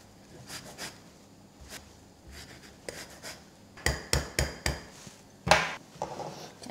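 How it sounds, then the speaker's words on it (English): A lemon scraped across a microplane grater gives a series of short, close rasping strokes, sparse at first and then quicker in a rhythmic run. "zesting our lemon"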